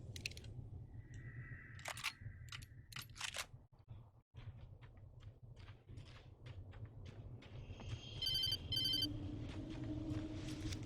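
Cell phone ringing in the game Alan Wake: a repeated electronic ring tone in short bursts, mixed with clicks, brief knocks and a sudden dropout, then louder chirping tones near the end over a low rumble.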